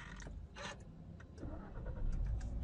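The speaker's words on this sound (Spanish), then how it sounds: "encendemos el vehículo sin ningún problema" A car engine cranks and catches, faint and close, with a few short starter-like bursts before the running engine settles into a low, steady rumble.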